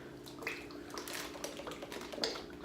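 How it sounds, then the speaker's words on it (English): Fat-free Italian dressing glugs and splashes faintly from a bottle into a crockpot, a soft continuous pour with small gurgles and drips close by. "I'm gonna put the Italian dressing in here"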